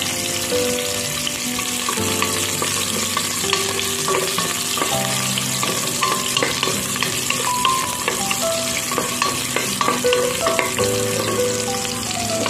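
Garlic and ginger fry in hot oil in a pan, a steady close sizzle with occasional stirring clinks running throughout without talk.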